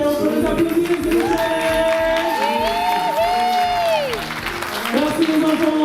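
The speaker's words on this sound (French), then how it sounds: "on peut les applaudir, s'il vous plaît" A children's audience applauding at a show, dense clapping and crowd noise throughout, with tonal voices and shouts rising over the applause.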